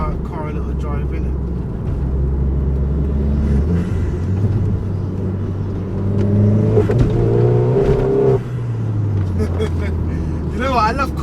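A forged Vauxhall Corsa VXR, front-wheel drive, cornering: a close, steady engine drone that swells and rises in pitch midway, then drops back as the revs fall.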